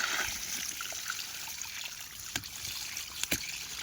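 Water flows steadily through an irrigation channel in a maize field, a soft continuous trickle with a few faint knocks near the end and no speech.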